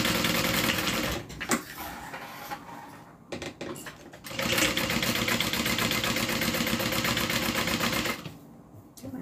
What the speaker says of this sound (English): I'm going to stitch down and then stitch back up.